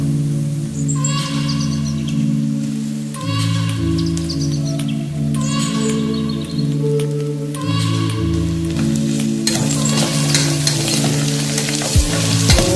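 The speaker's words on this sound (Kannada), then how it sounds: "ಸೋಯಾ ಚಂಕ್ಸ ಇದ್ದೀನಿ ಇದನ್ನು ಫ್ರೈ ಮಾಡ್ಕೊಂಡ್ಬಿಡೋಣ" Soya chunks fry in a pan with a loud, steady sizzle, broken by repeated scraping stir strokes, with the frying growing brighter and more crackling toward the end; no one speaks.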